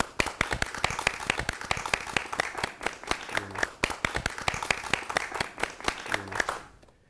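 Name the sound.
applause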